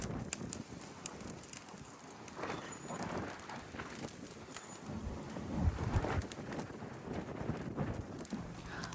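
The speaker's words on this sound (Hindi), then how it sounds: "आप लोगों ने देखा कितनी तेज़ हवा चल रही थी" Strong wind blows outdoors around a gas BBQ grill rigged to burn charcoal, a continuous loud roaring rush with gusts and buffeting thumps, alone with no talk.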